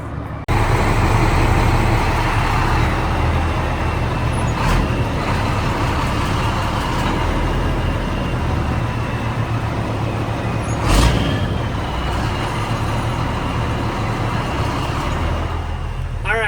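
Truck engine idling and rumbling steadily throughout, with a sharp air brake hiss around the eleventh second and another faint release earlier.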